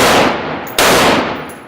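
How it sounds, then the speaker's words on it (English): A full-auto machine gun fires at an indoor Las Vegas shooting range in two loud, close bursts, each burst decaying into ringing echo. "Machine gun."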